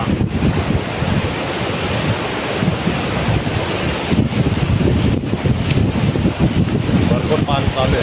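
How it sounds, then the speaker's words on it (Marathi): Heavy water rushing along the Waldevi dam canal near Nashik, a loud, steady broadband roar with wind buffeting the microphone throughout. "भरपूर पाणी चालू आहे."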